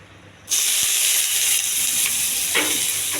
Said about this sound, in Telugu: కరివేపాకు బాగా వేగించాలి.